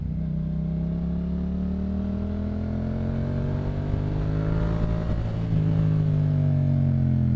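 A Yamaha MT-07 motorcycle with a Yoshimura exhaust, riding close and steady as the engine note drops through a downshift and then climbs again under acceleration, with no talk over it.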